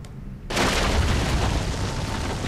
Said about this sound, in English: More of this explosion action thing